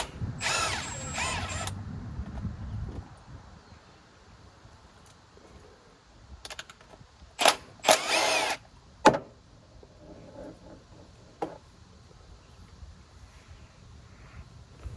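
Short bursts of a power tool working the transmission pan bolts on a 2000-2007 Ford Focus 2.0L, a longer buzz at the start and several brief whirs and ratchety clicks later, close by with quiet gaps between.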